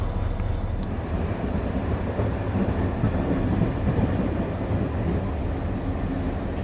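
A heavy cargo train in Turkey rumbles steadily along the rails with a constant low roar and faint rhythmic clatter, loud and continuous throughout.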